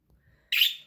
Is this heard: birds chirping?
yes